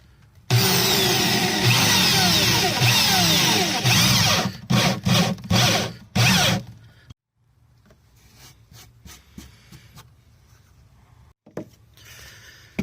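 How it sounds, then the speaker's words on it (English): A loud power drill bores through plywood for several seconds, then a few short bursts, followed by quieter handling noises and a sharp knock. "I have to drill a matching hole right there"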